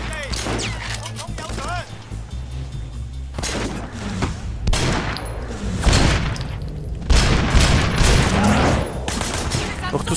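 Heavy gunfire in the open-world action game Sleeping Dogs comes as repeated loud bursts and volleys of shots, with booming impacts and someone talking in between.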